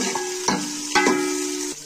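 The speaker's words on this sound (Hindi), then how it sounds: "अब मैं घी डाल रही हूँ इसमें, इसका मसाला तैयार करूँगी।" Ghee added to a hot pan for a kofta masala sizzles steadily up close, with a few stirring scrapes and bumps breaking the even fry sound. No one is speaking.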